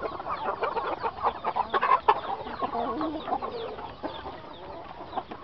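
A Texas gamefowl rooster bred for fighting clucks and calls on a farm, a busy run of raspy clucks and short crowing-like notes, fairly close and steady throughout.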